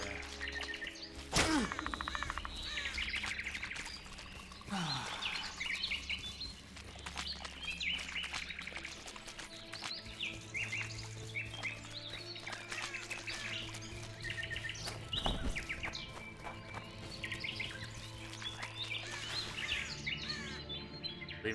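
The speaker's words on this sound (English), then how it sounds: "Birds chirping, perfect." Birds chirp and tweet steadily through a dense game soundscape from The Witcher 2, with scattered calls over ambient background and a couple of dull thumps.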